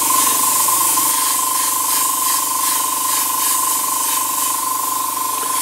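Spray paint dusted over a dungeon stencil, a loud continuous hiss held close and steady for several seconds with a faint tonal whine underneath and no talking.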